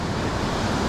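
Ocean waves wash onto a Philippine shore during shore casting for fish, a loud continuous roar of surf mixed with wind buffeting the microphone in a short burst.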